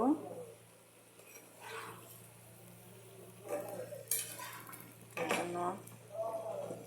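A pot lid lifts off and pumpkin is stirred in a pot, giving soft clinks and scrapes with a gentle simmer beneath, close and fairly quiet, with a few bursts of talk over it.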